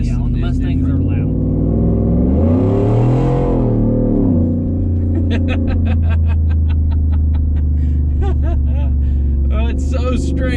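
The engine of a 600-plus-horsepower work truck, fitted with a Roush exhaust, rumbles loudly and swells into one rising and falling rev. People talk over the constant close drone inside the cab.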